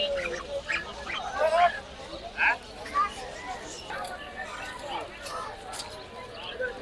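Ducks at a busy poultry market in Tongi, giving a few quacks and fowl calls amid a crowded murmur while someone talks over them nearby.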